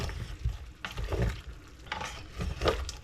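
Garlic and half an onion are stirred in a pan during cooking, with soft scraping and light sizzling in irregular bursts, close and moderately quiet without speech.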